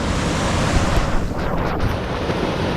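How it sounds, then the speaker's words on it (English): Sea water surging in over coastal rocks on a Northern Beaches shoreline, a steady, loud wash of surf and rushing water with wind buffeting the microphone throughout, no voices. "you can see here the water's rushing into this area here"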